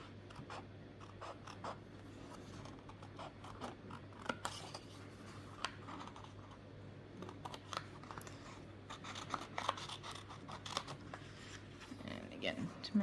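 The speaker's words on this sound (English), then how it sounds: "grab your scissors and cut those out" Scissors snip through paper while cutting out Christmas jingle-bell shapes, quiet close crisp cuts in an irregular run, with rustling paper and soft handling noises.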